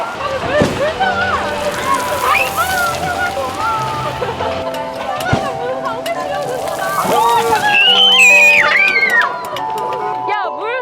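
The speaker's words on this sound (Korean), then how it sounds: "시원한 물소리를 들며" Water sloshes and splashes nearby amid a busy outdoor crowd at Legoland Korea, with voices and chatter running throughout.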